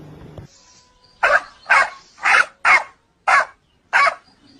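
A dog barks six times, loud and close, in short sharp barks spaced roughly half a second apart, with quiet gaps between them.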